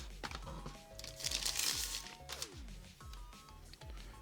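Plastic packaging around a handheld game console, the TrimUI Smart Pro, crinkles and rustles close up for about four seconds in steady handling, with a louder burst midway and faint low hum beneath.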